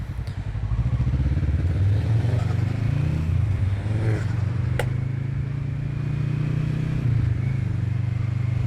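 Kawasaki Vulcan S motorcycle engine droning loudly up close, with one sharp, brief backfire pop cracking out partway through.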